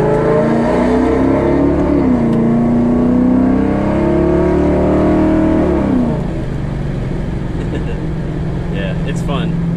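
Car with a Kilduff Machine automatic shifter, a 2009-2014 model, accelerating hard with a steady engine note rising then dropping as it shifts, loud and close under continuous talking.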